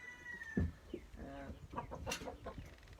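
A broody hen sits on nine eggs on a farm, giving soft, low clucks and murmurs that are close and quiet, with a brief higher call partway through.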